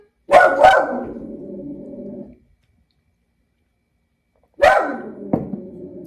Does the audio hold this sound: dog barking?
yes